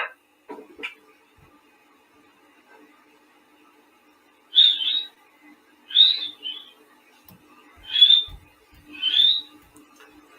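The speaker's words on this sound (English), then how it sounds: "You'll hear the whistling first of all," Whistling captured on a recording from an alleged poltergeist haunting: four short, high, chirp-like whistles spaced about a second apart, moderately loud against a quiet hiss, after some faint earlier noises.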